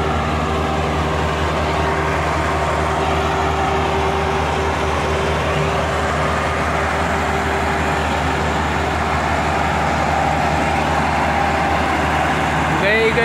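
A Massey Ferguson 385 tractor strains under a loaded sugarcane trolley, its diesel engine a loud, steady, laboring drone close by, with a person talking over it throughout.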